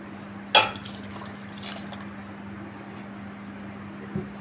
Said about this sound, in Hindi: अब मैं इसमें यखनी ऐड करूँगी जो मैंने छान के रखी हुई है।